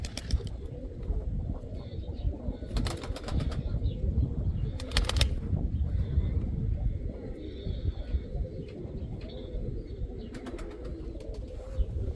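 Pigeons kept by a Turkish fancier coo steadily and close by, with a few brief wing flaps or sharp chirps mixed into the low, continuous burble.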